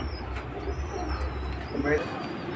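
High-flying silver bagha pigeons kept with their eggs and chicks coo softly in low, rolling murmurs, with faint chirps and voices in the background.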